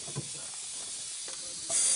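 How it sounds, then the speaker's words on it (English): Steam hissing from a coal- and wood-fired steam locomotive in Romania, a steady broadband hiss that swells louder and brighter near the end, with no talk. "Clearly we have steam."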